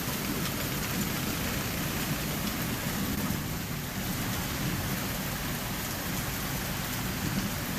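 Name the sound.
hail storm in Colorado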